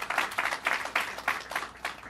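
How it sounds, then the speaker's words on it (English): Audience at a Daily News/CUNY Citizenship NOW! event applauds Secretary of State Cesar Perales, with a short run of fairly loud, close claps coming in uneven rhythmic bursts. "Let's give him a round of applause."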